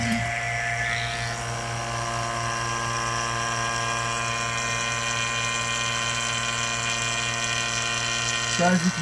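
A vacuum pump draws the air out of a chamber holding a marshmallow, giving a steady, loud mechanical drone with a constant hum that runs unbroken throughout, ending in a brief rattle.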